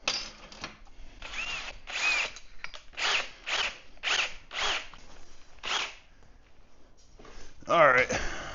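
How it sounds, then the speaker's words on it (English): A handheld power drill, used while building a powder coating oven, whirs in a run of short repeated bursts close by, with a person talking over it. "And change the bit on this drill."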